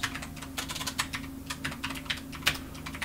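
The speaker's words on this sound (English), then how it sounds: "You can't see what I'm typing. I need you to see what I'm typing because it's better that way" Rapid, steady clicking of fingers typing on a computer keyboard, close and clear over a low background hum, with no talking.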